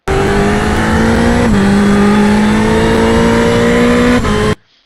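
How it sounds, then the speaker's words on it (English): A race car at full throttle around the VIR circuit, its engine a loud, steady close-up drone that climbs gradually, dips briefly at two shifts, then cuts off abruptly near the end. "You should be able to go full throttle all the way through here."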